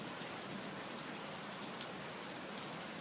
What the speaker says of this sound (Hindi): आसमान में बादल गरजे और बारिश शुरू हो गई